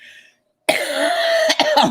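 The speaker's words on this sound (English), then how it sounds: "I have to cough" A single harsh, rasping cough close by after a brief silence, breaking up into a few rough bursts at the end.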